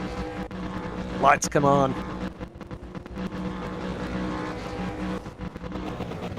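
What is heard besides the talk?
race car engines revving in sim racing video game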